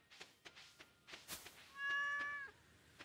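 A cat meows in the Stardew Valley farming game: one drawn-out, clear, fairly loud meow rising out of quiet game ambience with scattered soft clicks and taps.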